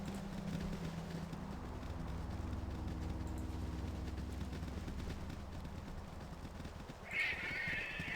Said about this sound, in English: Hear that strange bird cry in the background just over and over.